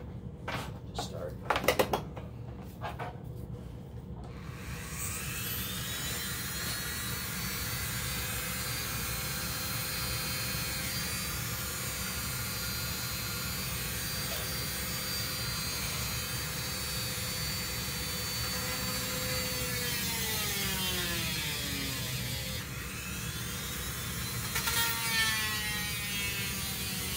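An electric drill bores out a broken wooden shaft from an old Steinway piano hammerhead, running as a long steady whine that shifts pitch near the end, after a few brief knocks at the start.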